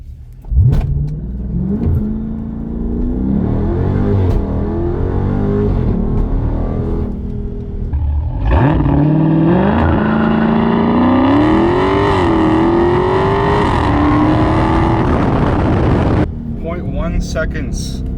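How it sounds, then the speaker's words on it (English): A Dodge Daytona 392 V8 revs for a launch control start at 2600 RPM, then roars hard up through the gears in loud rising sweeps with shift breaks before it eases off, and people talk under the engine noise. "we're gonna try and launch from 2600 now and see what we get."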